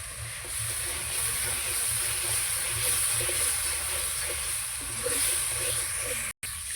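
Water poured into a hot pan of spiced tengra fish sets off a loud, steady sizzling hiss that lasts throughout, with faint bubbling and clinks underneath and a brief cut near the end.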